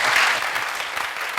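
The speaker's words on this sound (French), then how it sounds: "Merci de l'applaudir." A studio audience applauds a guest on a Burkina Faso television variety show, a dense, steady wash of clapping that holds at even loudness for over a second.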